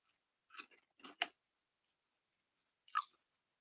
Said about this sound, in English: Crunch is just really good and consistent